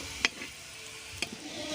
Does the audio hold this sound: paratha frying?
yes